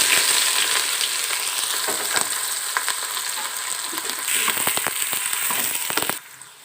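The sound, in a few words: onions and spices frying in a pan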